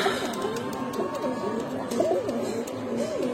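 A pair of black Chuithal pigeons coo in soft, repeated rolling calls close by, over a murmur of background noise.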